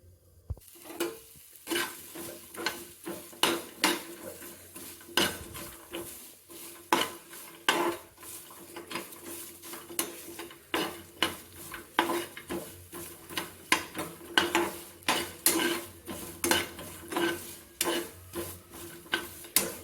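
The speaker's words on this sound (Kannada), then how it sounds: "ಶೇಂಗಾ ಮತ್ತು ಮೆಣಸಿನ್ಕಾಯಿ ಎರಡು ಒಟ್ಟಿಗೆ ಹಾಕ್ಬೇಕಾ ಫ್ರೈ ಮಾಡೋಕೆ" Peanuts and green chillies fry together in a pan under a constant sizzle, with brisk rhythmic metal spoon strikes and scrapes against the pan, close and without speech.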